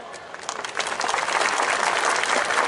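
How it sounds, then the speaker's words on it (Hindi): Applause from a crowd at a political speech in Aurangabad, India swells in after a moment of quieter noise, then continues as dense, steady clapping. "बाबा साहब का नाम आते ही ताली तो हो जा रही है"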